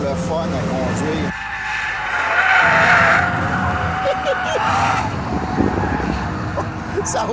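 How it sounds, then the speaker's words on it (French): A Mini JCW slides through a four-wheel drift, its tires skidding and squealing loudly over a steady engine drone that lasts throughout, while someone speaks over the noise. "je suis capable de la mettre en travers, faire des glisses des 4 roues"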